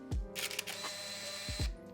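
An Olympus AF-1 point-and-shoot film camera fires a shot: a mechanical click, then a whirring motorized film advance, then further clicks as it settles, close and fairly quiet.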